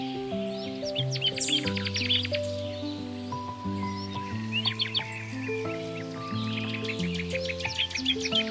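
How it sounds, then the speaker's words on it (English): Bay-headed tanager song: bright, high chirps and short twittering phrases in a few bursts, set against steady sustained background music that plays throughout. "Meet the bay-headed tanager."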